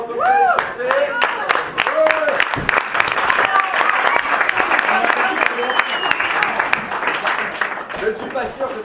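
Audience applause at an improv theatre show after a warm-up round, loud dense clapping sustained throughout, with voices talking and calling out over it.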